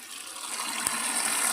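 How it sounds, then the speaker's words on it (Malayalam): Water gushes steadily into a fish tank during a water change, a close, continuous pouring rush. "സ്പോട്ട് ടൈലിൽ വെള്ളം നിറച്ചുകൊണ്ടിരിക്കുകയാണ്."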